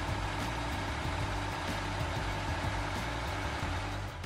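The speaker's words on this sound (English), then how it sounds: "The engine runs on this Oshkosh truck." The engine of a 2002 Oshkosh M1070 heavy equipment transporter truck runs at a steady idle, a constant deep rumble with a rhythmic low throb and no voices.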